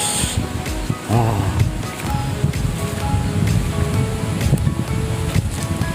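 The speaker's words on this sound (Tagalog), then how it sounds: "Lakas ng hangin." Broadband wind roars and buffets steadily on a peninsula mountain within sight of the sea, mixed with a distant surf-like wash and brief rustling, while a voice speaks briefly in Tagalog near the start.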